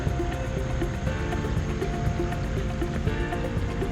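Creek water flowing beside a running trail, a steady close rushing and babbling wash with no breaks, moderately loud and unbroken throughout.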